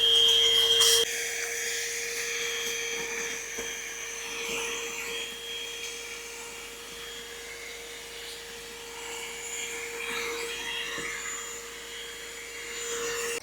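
A vacuum cleaner runs inside a car, its nozzle working between the seats with a steady, loud whining drone and occasional scraping and rubbing as it moves.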